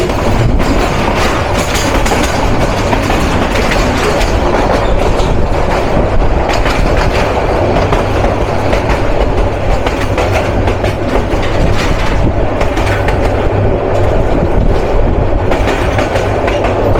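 Tista Express intercity train running on rails in Bangladesh, a steady loud rumble with rhythmic clickety-clack of wheels on track joints and carriage rattle throughout, no talk.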